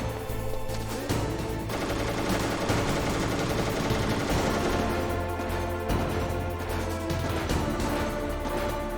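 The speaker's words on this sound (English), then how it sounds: "Why are you shooting everything, pal?" Sustained gunfire in Metal Gear Solid on the PS1, rapid machine-gun bursts rattling densely and loudly over a low game backdrop, with brief gaps between volleys and no voices.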